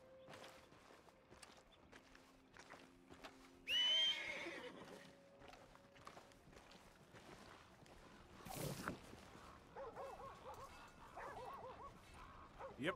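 A horse whinnies loudly in Red Dead Redemption 2, with dog barks, hoofbeats and scattered effects around it, fairly quiet overall.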